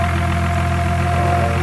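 A warmed-up 1994 Nissan Skyline engine idles after a cold start, a steady, loud mechanical hum with a faint knocking pulse running evenly throughout, close up and with no talking.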